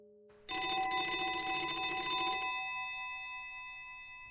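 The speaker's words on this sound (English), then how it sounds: "the music was interrupted by the sound of the telephone ringing" An old-fashioned telephone bell rings loudly in one sustained burst of about two seconds, then its metallic tone lingers and fades slowly into a quiet room.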